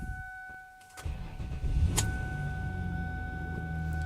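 A 2003 Ford Taurus engine cold-starts with a brief crank and catches quickly, then settles into a steady, fairly loud idle heard up close, with a faint electrical whine in the background.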